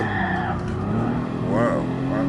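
A Porsche Black Series engine revving high to around 7,300 rpm on the Nürburgring, a steady in-car drone with a rising and falling pitch sweep near the end, heard continuously from inside the car.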